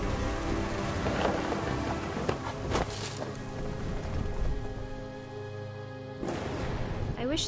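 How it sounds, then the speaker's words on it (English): A stormy scene in the video game What Remains of Edith Finch: a steady wash of heavy rain with deep rolling thunder swelling beneath it and a few sharper bursts along the way. "The thunder sounded much too close and full of angry power."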